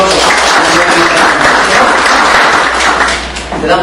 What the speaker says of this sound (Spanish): Denle un buen aplauso.